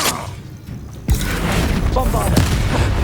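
Confringo fire spell blast in the Hogwarts Legacy video game, a sudden loud booming burst followed by a rumbling crackle. A voice calls out in the clip.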